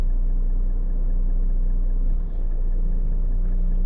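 A Renault T480 truck engine runs at low, steady revs while unloading a dump trailer of sand, producing a constant deep rumble close by with a faint hum and no voices.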